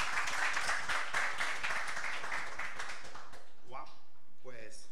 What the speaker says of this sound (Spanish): con un fuerte aplauso le damos la bienvenida al doctor Carlos Márquez